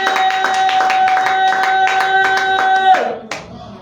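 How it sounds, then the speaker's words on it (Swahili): A church congregation claps hands in a quick, fairly regular rhythm over sustained musical tones, loud and close, before the clapping breaks off and fades near the end. "tenda kushangilia kwa mikono na vigelegele kwa ajili ya neno yako kulipa"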